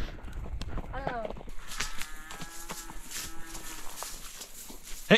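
A cow lows in a drawn-out moo amid rustling brush and shuffling movement on an Idaho cattle ranch, with a voice calling nearby and a sharp knock at the end.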